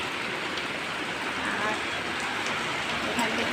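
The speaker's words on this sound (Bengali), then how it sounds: "প্রচুর বৃষ্টি আছে" A heavy downpour hisses on without a break at close range, loud and unchanging, with no talk over it.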